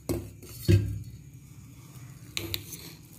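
Dosa batter made without urad dal is stirred with water in a bowl, giving a few soft scraping clinks of a utensil against the bowl, close and spaced apart, with quiet pauses between.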